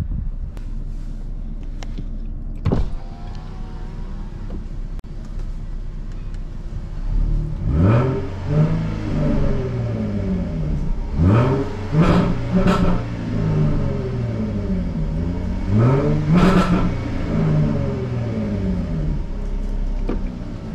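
A 2017 Jaguar F-Type in dynamic mode with its exhaust valves open revs repeatedly, loud throaty bursts rising and falling over a low idle rumble, with wind noise throughout.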